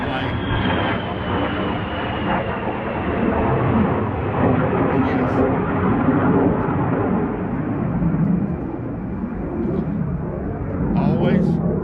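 An airplane passes overhead, a steady broad engine roar holding loud and continuous throughout, with a faint high whine easing downward early on and no speech over it.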